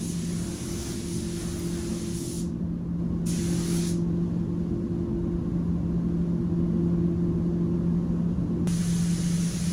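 A paint spray gun lays a first coat on a car quarter panel with a steady, loud, close hiss and a low compressor hum underneath, briefly shifting in tone as the spray passes.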